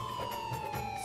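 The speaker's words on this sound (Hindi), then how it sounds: "एम्बुलेंस का सायरन" An ambulance siren sounds as a steady, slightly falling electronic tone held throughout a short moment, moderately loud and with no voices over it.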